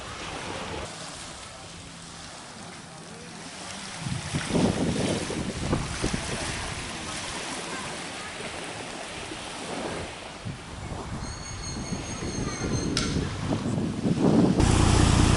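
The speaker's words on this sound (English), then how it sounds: "This is fast boat between Gili and Bali." Engine drone and rushing water from a fast passenger boat moving at speed over the sea between Gili and Bali, with steady wind buffeting the microphone throughout.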